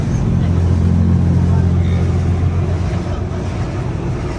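A pressure washer blasts a strong jet of water over a 2024 Hyundai Santa Fe XRT, a loud, continuous hissing spray that eases off slightly toward the end.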